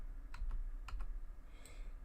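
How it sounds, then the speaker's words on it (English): A few light, sharp clicks of a down arrow key being tapped on a computer keyboard during fine adjustments, spaced irregularly over a low room hum. "adjustments using the down arrow on the keyboard"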